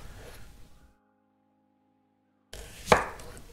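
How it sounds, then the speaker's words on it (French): A knife chops food once, a single sharp close cut after a stretch of near silence, with faint kitchen handling noise before it. "Je vais peut-être tous les couper tout de suite"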